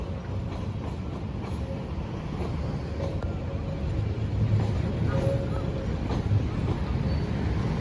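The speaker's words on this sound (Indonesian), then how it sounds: "ada yang masuk kereta api di jalur 2 ya teman-teman" Train rolling into track 2 at an Indonesian station, a loud continuous rumble with wheel clatter that builds steadily, heard up close.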